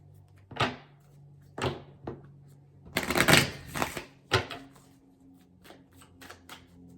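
Tarot cards being shuffled and drawn from the deck: several short riffling bursts and soft slaps, one longer shuffle in the middle, close and fairly quiet against a low steady hum, with no talk.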